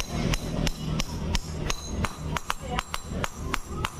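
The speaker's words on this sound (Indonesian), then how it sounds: "pakai palu sampai mentok" Sharp metallic hammer blows tap a part into a Jupiter Z motorcycle cylinder head, about a dozen close, loud strikes at a steady, slightly uneven rhythm with no talk.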